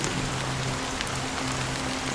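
Continuous rainfall in Penacony from Honkai: Star Rail, a thick wash of drops spattering on surfaces, with a faint low steady hum underneath and no speech.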